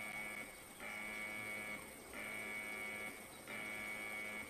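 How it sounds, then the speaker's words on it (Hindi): Alarm buzzer in the game IGI 2 sounding in repeated long tones, each lasting about a second with short gaps, steady and moderately loud. "बंद करो अलार्म, कोई नहीं है।"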